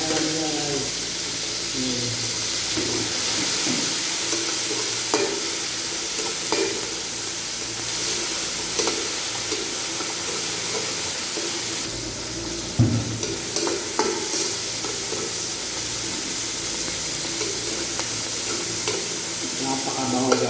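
Tomatoes and mung beans sautéing in a pan, with a continuous sizzle and hiss broken by scattered clinks and scrapes of stirring, and a voice briefly audible in the background.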